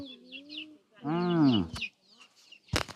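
Backyard chickens kept at a rural Thai home, heard as a few close clucks and a drawn-out, wavering cry, with short bird calls and a sharp tap between them.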